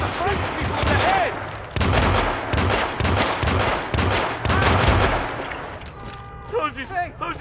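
Rapid bursts of gunfire from the Hitman video game, loud sustained volleys of shots that pause briefly and resume, ending with a few scattered pops under voices.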